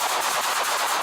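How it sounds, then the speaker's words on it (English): Denver police officers fire their guns at an armed robbery suspect, caught on bodycam: a rapid, continuous volley of close, loud shots with no talking. "4 uniformed Denver police officers discharged firearms at the subject"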